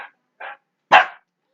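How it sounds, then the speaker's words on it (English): Dogs bark in short separate outbursts, three sharp barks with brief gaps, the last one louder and closer, with nothing else heard between them. "You're going to hear the dogs barking."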